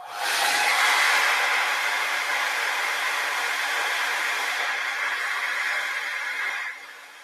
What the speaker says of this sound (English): with the hair dryer on cool, pointing up, you want to close your eye